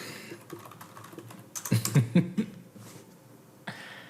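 Computer keyboard typing during a live stream, a quick burst of close clicking keystrokes in the middle with quieter scattered taps around it, faint background noise, no talking.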